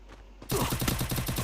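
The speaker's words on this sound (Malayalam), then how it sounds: "ഇതെവിടെ നിന്ന് എനിക്ക് വെടി കിട്ടി." Rapid automatic gunfire in the mobile shooter Free Fire, a loud, close, steady burst of evenly spaced shots starting abruptly after a quiet moment and running to the end, with no talk.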